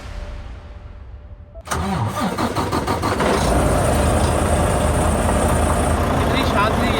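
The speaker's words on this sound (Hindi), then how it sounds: "अपना ट्रक स्टार्ट हुआ है" A truck engine cranks and catches abruptly, then settles into a loud, steady idle on an icy road in Washington during a snowstorm, after a quiet stretch of faint background hum.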